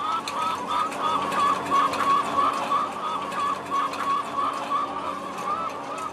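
Hens in battery cages, a dense chorus of clucking and cooing from many birds, steady and fairly close, with repeated short calls over continuous background noise.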